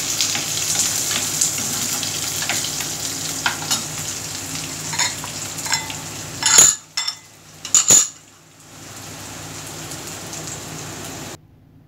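Onions sizzle steadily in a pan for Punjabi kadhi pakoda while a spoon stirs and scrapes, with a few sharp metallic clanks near the end before the frying settles to a quieter hiss.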